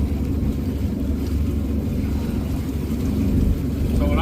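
A Sea-Doo Switch pontoon jet boat with a 230-horsepower supercharged engine runs close by, a loud, steady low rumble that barely changes over a few seconds.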